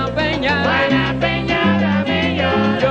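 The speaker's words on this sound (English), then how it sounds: "And salsa sounds like this." New York-style salsa music with an African-rooted rhythm section, a short loud excerpt of brass-led melody over steady percussion and bass.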